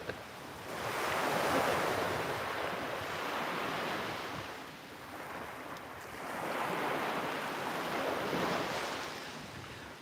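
Cold evening ocean surf breaks on a beach in two long swelling washes that rise and fade, steady and fairly loud with wind buffeting the microphone and no speech.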